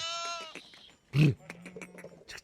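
A sheep gives a short, loud bleat amid faint farmyard noises and other animal calls in the background.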